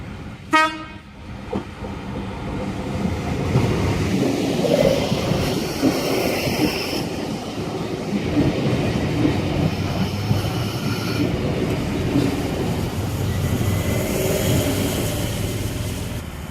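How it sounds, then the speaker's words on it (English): An S set electric passenger train pulls into the platform at Camellia station, a brief horn blast at the start followed by a steady, loud rumble of wheels and carriages rolling in close by, with no talking. "we should have an S set approaching platform number 1 at Camellia for a Carlingford service"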